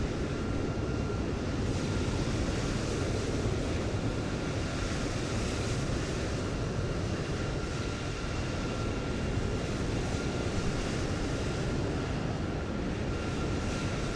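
A Eurowings Airbus A320 in Discover livery, inbound from Berlin, lands at Copenhagen in Microsoft Flight Simulator 2020. A steady, loud, broadband roar runs unbroken throughout with no talk.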